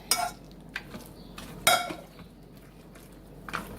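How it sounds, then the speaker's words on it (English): Cooked pasta stirred into salsa ranch chicken in a crockpot, a spoon clinking and scraping against the pot in a few sharp knocks with softer stirring between. "And stir that in."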